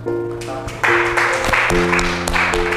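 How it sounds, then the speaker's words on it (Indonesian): Classroom applause for a student during a teaching-practice lesson, a burst of scattered clapping rising after a brief sustained-tone intro and continuing over steady held musical notes. "beri tepuk tangan buat KP ya"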